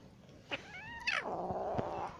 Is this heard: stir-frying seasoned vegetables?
no